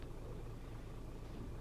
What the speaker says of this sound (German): erstmal Motor starten. Unser LKW ist wieder mal ein Scania